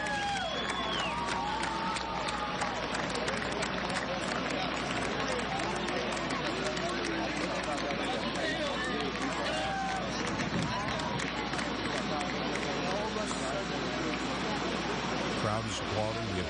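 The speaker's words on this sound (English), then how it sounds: "Crowd is applauding." An outdoor crowd in Boston claps and cheers at news of a suspect in custody during the Tsarnaev manhunt, a continuous distant roar of applause and voices with passing traffic, steady throughout.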